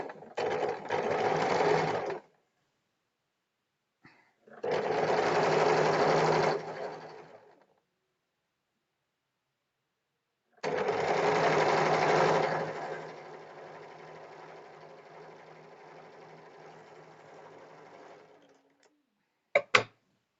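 An electric sewing machine stitches a belt blouse in three loud whirring bursts, the last trailing off into a quieter slowing hum, separated by silent pauses and ending with a couple of sharp clicks.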